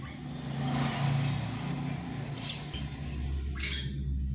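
Mixed birds in an aviary stocked with ground, mid-level and upper-perch species, with scattered faint chirps and squawks over a steady low background rumble, some distant calls standing out near the end.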